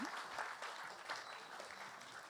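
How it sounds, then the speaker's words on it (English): Audience applause at a live film screening event in a London venue, steady dense clapping filling the space throughout, moderately loud with no break. "Everyone, round of applause for Ginhawa, please. Josh, Jelly, and Marie."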